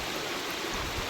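A forest stream flows along the Colonial Knob walkway loop, a steady broadband rushing hiss that is close and constant with no voices.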